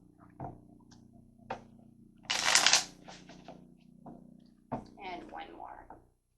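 Tarot cards are shuffled by hand in a few short riffling bursts, with soft taps and card handling between them and a quiet voice nearby.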